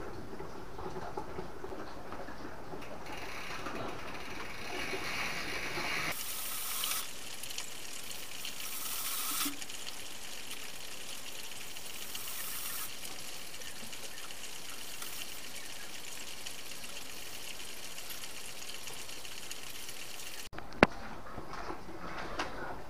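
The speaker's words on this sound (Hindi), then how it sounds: "अब हम करेंगे चैन वॉश।" A bicycle chain is scrubbed inside a chain cleaner, a steady wet churning and gushing that runs nearly throughout at moderate level with brief louder bursts and a sharp click near the end, no talking.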